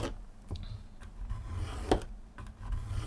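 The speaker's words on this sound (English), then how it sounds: "draw a line that is 1/4 inch in from the left hand side" A pencil drawn along a ruler on a tiered alcohol ink journal cover, making faint scratchy rubbing strokes with a few light taps, close and quiet with no talking.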